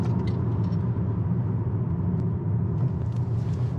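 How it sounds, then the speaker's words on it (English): A 2021 Buick Envision accelerates hard from 0 to 60, its turbocharged engine giving a steady, loud cabin rumble with no talking over it. "So let's go ahead and do a 0 to 60 and go."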